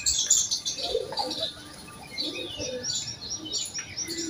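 A flock of pigeons gathers at food in an outdoor market area, with nearby chirps, soft coos and wing flaps scattered across a few seconds.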